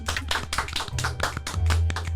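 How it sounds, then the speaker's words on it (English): A small podcast group claps in a studio, a brisk run of close, sharp hand claps with a few overlapping beats, fairly loud and free of talk. "Can we get a clap for that?"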